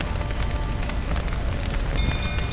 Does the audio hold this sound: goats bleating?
no